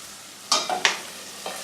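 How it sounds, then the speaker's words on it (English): Onions frying in a pan for chilli con carne, stirred a few times with distinct scraping strokes over a faint sizzle, close and fairly quiet. "Give that little stir every now and then,"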